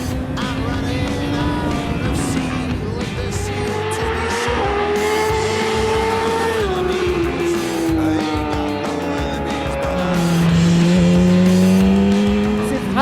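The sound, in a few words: R6 motorcycle riding on a rally training road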